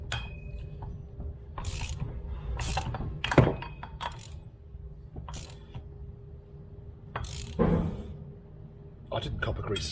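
A ratchet clicks in short bursts, close and fairly loud, while torquing up a prop shaft bearing on a Mitsubishi L200, with clanks and handling noise between the bursts and a low hum underneath.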